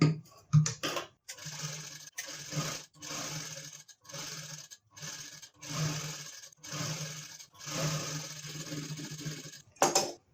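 A sewing machine double-stitches a gown that is being taken in for a better fit. It runs in repeated short bursts of whirring stitching separated by brief pauses, close and moderately loud, with no talking.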